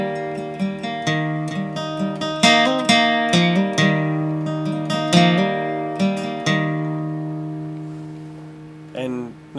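An acoustic guitar is fingerpicked with hammer-ons in a pattern from a song, a steady run of bright plucked notes that ring together and fade near the end, with no voice.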